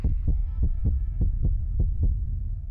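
A heartbeat sound effect from the dating game Monster Prom pulses in steady double thumps, about eight beats in under three seconds, loud and low over a faint sustained hum, with no voices.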